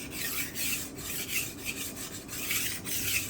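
Steady rhythmic rasping strokes of a knife blade drawn across a whetstone on a SharpWorx Master 2 guided-arm sharpener, close and continuous with regular back-and-forth pulses and no talk.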